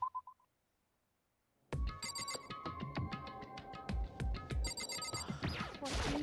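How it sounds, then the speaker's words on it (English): A mobile phone rings loudly after a short quiet pause, its repeated electronic tone pattern sounding clearly and alone during a Danganronpa: Trigger Happy Havoc game session. "Oh, my phone's going off."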